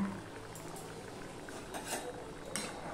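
Hilsa fish curry boils in a pan over medium heat, a faint steady bubbling with a few light clinks of utensils against metal.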